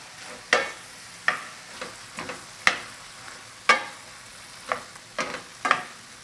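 Zucchini and shrimp being stir-fried in a pan, with a soft sizzle beneath repeated crisp spatula scrapes and taps that come in an uneven rhythm, close and moderately loud.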